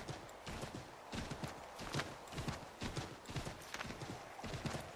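Horse hooves in the Assassin's Creed 3 video game: rapid, rhythmic clip-clopping of a trotting horse, close and continuous for about five seconds with no talking.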